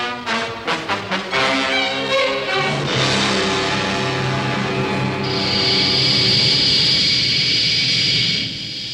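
Thunderbird aircraft engines run loud and close, starting with a few rhythmic bursts before settling into a continuous roaring whine that gains a high-pitched tone midway and holds steady.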